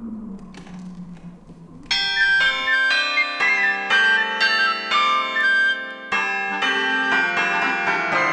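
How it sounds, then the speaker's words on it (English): Cathedral bells of Notre Dame in a Hunchback of Notre Dame animated storybook game play a chiming melody, bright bell notes ringing in quick succession after a quieter musical opening, with no talking. "Quasimodo loves the music of the bells, so let's play them for him."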